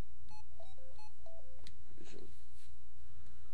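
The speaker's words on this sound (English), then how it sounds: "Hold on a minute, my phone's ringing." A mobile phone rings with a short electronic melody of stepped beeping tones, a few quick notes repeated, fairly clear against a quiet room.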